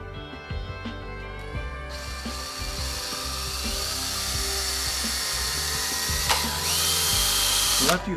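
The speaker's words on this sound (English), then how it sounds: "we're going to drill right at each one of the cross marks" A power drill whines steadily and continuously, its pitch shifting slightly as it bores holes through a paper template, close and loud throughout.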